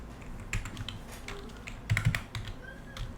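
Rapid typing on a computer keyboard while writing Python code, an irregular run of close, crisp key clicks with a few heavier strokes, alone without any voices.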